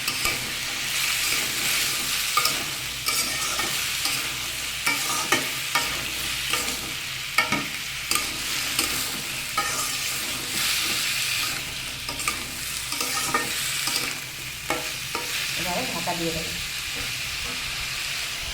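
Red lentils and pumpkin with turmeric are stirred in a hot pan, a steady sizzle under repeated scraping strokes of the spoon that continue close and fairly soft throughout.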